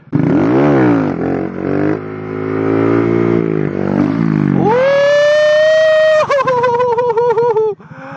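A Honda Grom motorcycle engine revs hard during wheelie practice, rising and falling through choppy throttle blips before climbing into a sustained high-pitched scream, then dropping and wavering as the throttle is worked. The engine is close and loud, with no talk.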